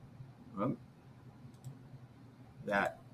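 Computer mouse clicks in a CAD drafting session, a couple of short, sharp click bursts spaced a couple of seconds apart over a quiet background.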